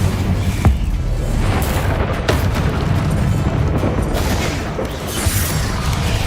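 An Incendio fire spell goes off in Hogwarts Legacy, a dense roaring whoosh of fire with rumbling booms, loud and continuous in the game's combat.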